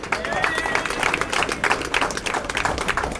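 Audience applause and cheering for returning CARIFTA athletes at a Nevis homecoming welcome, a dense, steady wash of clapping held at even loudness throughout, with crowd noise mixed in.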